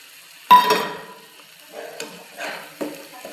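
Ginger and garlic paste hits a hot pan with a sharp sizzling burst, then a few softer spoon stirs and scrapes follow in quiet spurts.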